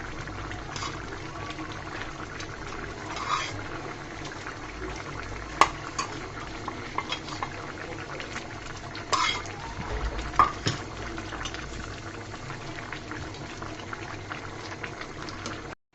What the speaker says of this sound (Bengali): এই পর্যায়ে কেটে রাখা ডিমগুলো দিয়ে দিব